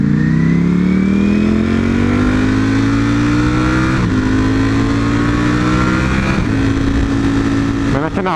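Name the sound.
motorcycle engine while riding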